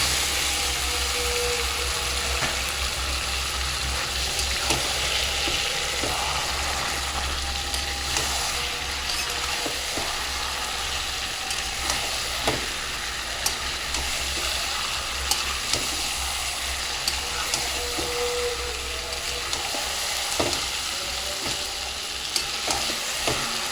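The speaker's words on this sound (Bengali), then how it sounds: "ভালো করে কষতে হবে, যতক্ষণ না তেলটা ছাড়ে ততক্ষণ আমরা কষতে হবে।" Marinated chicken pieces frying in oil for chicken kosa, with a steady loud sizzle and occasional spoon scrapes and stirring knocks throughout.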